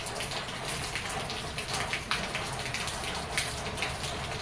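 Rain pours steadily outdoors among green trees, a dense, even hiss of falling water with no voices.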